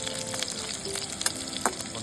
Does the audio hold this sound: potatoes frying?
yes